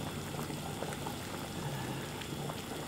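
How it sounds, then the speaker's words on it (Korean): Beef short rib soup (galbitang) boiling hard in a pot, a steady close bubbling and simmering roar throughout with no speech. "이제 그만 끓여도 되겠네요."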